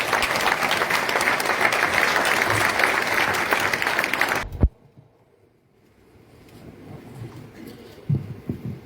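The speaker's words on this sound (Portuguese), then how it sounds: "Uma grande salva de palmas para o Dr." Loud, dense applause from an audience at a Socialist Party event in Vizela for candidate Vítor Hugo Salgado, sustained for several seconds before cutting off abruptly into near silence with faint room noise.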